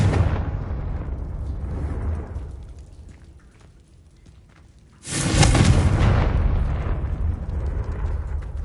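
Confringo blasting spell explosions in the video game Hogwarts Legacy: a loud, broad blast fades out over a couple of seconds, then a second sudden explosion bursts in and rumbles on at full strength.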